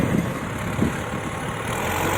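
A tractor ploughs a field being prepared for hazelnut planting, its engine giving a steady, moderately close rumble with faint low thuds near the start and no voices.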